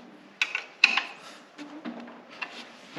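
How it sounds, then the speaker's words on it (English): A wrench clicks and ratchets while tightening bolts on a Husqvarna AWD mower wheel assembly, giving a few close metallic clicks and short creaks over three seconds. "We'll check both of those with a wrench. Make sure they're good."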